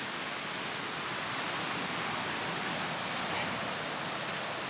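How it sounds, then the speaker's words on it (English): Steady broadband wash of surf on a Lake Michigan beach in the early morning, an even, continuous roar of waves with no voices and no distinct breaks. "Beach on Lake Michigan,"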